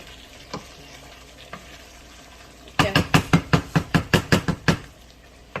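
Chicken simmering in a pan, a quiet bubbling bed of sound, then a quick run of about ten sharp, evenly spaced knocks of a utensil against the pan. Close and loud, with no talk.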